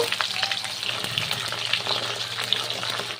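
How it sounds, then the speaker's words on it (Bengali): Pieces of pointed gourd fry in hot oil, giving a busy, continuous sizzle with crackling pops and occasional stirring, close and clear with no talk. "ওই তেলে আমি পটলগুলো ভাজা করে নেব"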